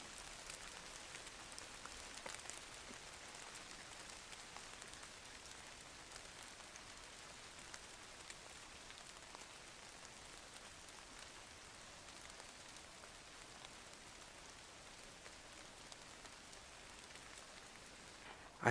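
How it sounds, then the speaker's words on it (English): Light summer rain patters faintly and steadily on nearby surfaces, a soft even hiss of scattered drops lasting throughout with no other sounds standing out. "it started to rain."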